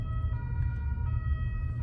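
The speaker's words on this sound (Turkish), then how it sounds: "Ambulans geliyor durmamız lazım." A steady ambulance siren wailing continuously over low traffic rumble, heard from some distance.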